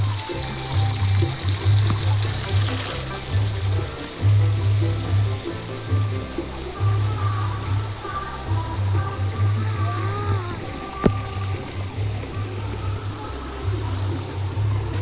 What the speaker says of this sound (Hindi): ये देखो वाटरफॉल।